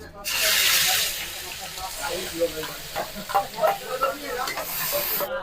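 Onions tipped into hot oil with cumin for a dabeli filling burst into a loud close sizzle that settles into steady frying with stirring clinks, while a voice talks over it.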